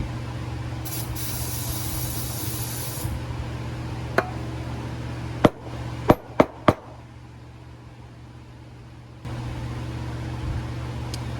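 WD-40 sprays in one hissing burst of about two seconds into a disassembled IH 574 tractor fuel injection pump, followed by a few sharp metallic clicks and taps over a low background hum.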